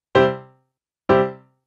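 Two plucked-sounding notes on a Montford MFDP9 digital piano with reverb off, about a second apart, each decaying quickly into complete silence with no lingering echo.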